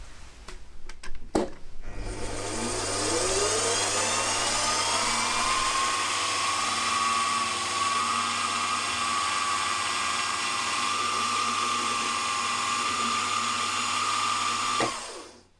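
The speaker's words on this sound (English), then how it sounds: "So this is just a matter of centre drilling and then going round again, drilling and then going round again and tapping" A metal rail is centre drilled and tapped for M5 holes on a machine; a steady high whine holds for about thirteen seconds after a couple of clicks, then cuts off abruptly.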